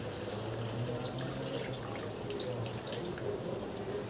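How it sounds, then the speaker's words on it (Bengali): Water pours steadily into a pan of Bihari-style chicken curry, a continuous soft splashing rush that holds at an even level without pauses. "এখন আমি এখানে আমি জল দিয়ে দিচ্ছি"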